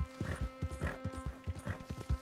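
Horse hooves clip-clopping in Red Dead Redemption 2, a steady trotting beat of muffled hoof falls, close and even, over a low droning background.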